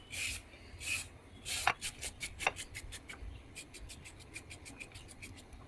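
A washed carrot being peeled: quick, rhythmic scraping strokes rasp close by, a few slower pulls at first, then a fast regular run of short peels.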